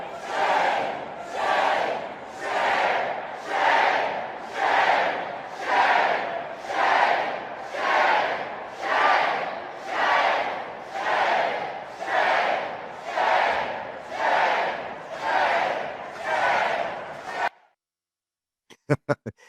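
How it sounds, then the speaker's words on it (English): A large crowd packed into the Missouri Capitol rotunda chants in a steady, rhythmic pattern at a peaceful rally, with about fourteen loud, regular shouted beats echoing in the hall before the chant stops abruptly. "This is the rally in the rotunda of the Missouri, peaceful rally in the rotunda of the Missouri Capitol just 2 days ago."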